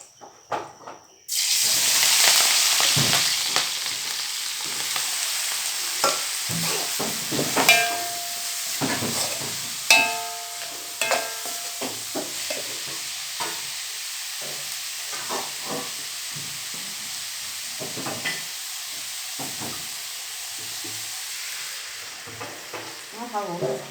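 Young hornet larvae dry-roasting in a hot pan, a steady sizzle with scraping stirs and occasional clinks of the utensil against the pan, continuous and close.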